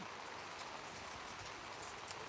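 Teeming rain pours down over an under-18 rugby match between Auckland and Southern Zone, a dense, even hiss of falling water that stays constant and moderately loud throughout, with no speech over it.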